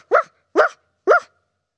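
A child in a village primary school English lesson imitates a dog, voicing three crisp, evenly spaced woofs close to the microphone, loud and with clean silence between each bark.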